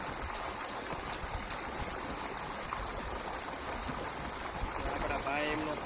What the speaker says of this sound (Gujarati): હવે પાણીથી પંપ ભરી વાળવાનો